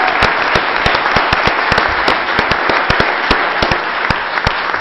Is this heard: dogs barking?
no